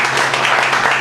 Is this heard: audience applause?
yes